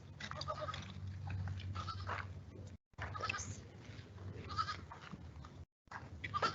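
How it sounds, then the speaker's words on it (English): Goats bleat at a children's farm during a fall festival feeding visit, with repeated calls over a steady low rumble, cut by two brief dropouts. "So the goat that's up front, her name is Khaleesi"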